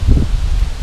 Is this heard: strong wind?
yes